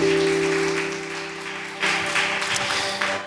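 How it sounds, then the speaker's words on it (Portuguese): Members of a church congregation applaud together in a sustained wash of clapping, louder at first and then swelling again in a later burst, with no voices over it. "Aplauda o Senhor Jesus"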